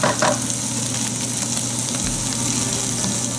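Tomatoes go into a hot frying pan and set off a loud, steady, close sizzle that carries on unbroken, with a brief clatter at the moment they land.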